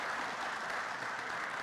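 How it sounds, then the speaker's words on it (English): Audience applause at a city council meeting, a steady wash of clapping from many hands that runs unbroken and fairly soft throughout, with no voices over it. "let's give them another big round of applause"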